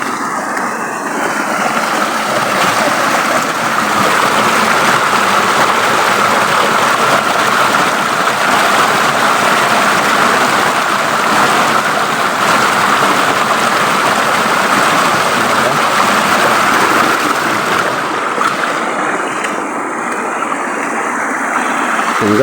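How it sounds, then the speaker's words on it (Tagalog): A mountain stream rushes in a steady, loud, broadband wash, unbroken for the whole stretch with no voices. "Parang ang tunog ng tubig eh."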